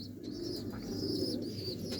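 A pigeon coos steadily and close by, a soft low rolling call that carries through the whole stretch with faint chirps above it.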